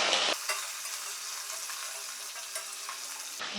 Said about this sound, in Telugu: ఉల్లిపాయ చీరుకు ఇవన్నీ నూనెలో వేపించుకుంటే సాంబారు టేస్ట్ వస్తుందండి